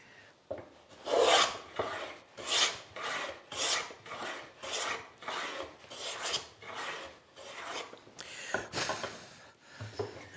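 Repeated rasping strokes of a sharp hand plane cutting a profile into wood, about a dozen steady back-and-forth passes close to the microphone with short pauses between, set to take an aggressive cut.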